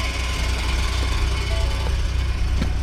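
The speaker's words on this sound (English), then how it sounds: "the engine sounds better after it's run here for a second" Car engine idling with a faint lifter tick, a steady low rumble holding at an even level throughout with light ticking and vibration riding on top, no voices.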